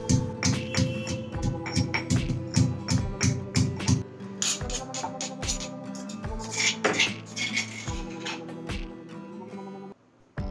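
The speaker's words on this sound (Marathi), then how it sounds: "आता आपण 2 ते 3 इंच आल्याचा तुकडा आणि 7 ते 8 लसणाच्या पाकळ्या बारीक टेचून घेणार आहोत" Ginger and garlic cloves pounded in a mortar for a potato curry: steady, rhythmic, close knocking thuds, fast at first then sparser, with sharp clinks between strikes.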